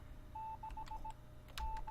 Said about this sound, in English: The radio seems to be broadcasting some sort of message in Morse code.